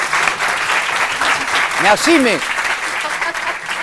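Audience applause in a French television studio, steady clapping running under a voice as he speaks throughout.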